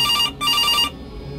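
A telephone rings in the CASE Animatronics horror game, two short electronic trilling bursts with a brief gap between them, clear and close, before fading.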